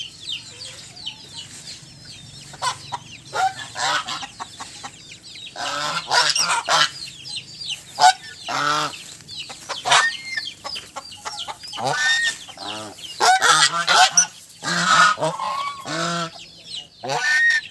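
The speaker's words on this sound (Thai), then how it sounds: "มาเบิ่งห่านจักหน่อยครับนะ" A flock of geese honks repeatedly outdoors on a misty, foggy morning, loud nearby calls coming in overlapping bursts with short pauses, mixed with some clucking fowl.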